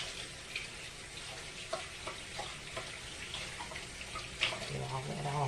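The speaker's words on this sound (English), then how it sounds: "of course I'm gonna wash my hands again" Hands washed under a running kitchen tap while baking cinnamon rolls, a steady low hiss of flowing water with faint splashes and soft clicks, fairly quiet throughout.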